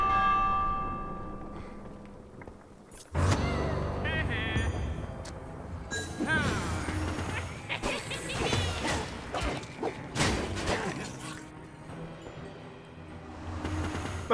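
In Minecraft Dungeons, a bell is struck with a sudden crash-like clang and a ringing tone, followed by busy game effects, whooshes and impacts layered over a continuous backdrop.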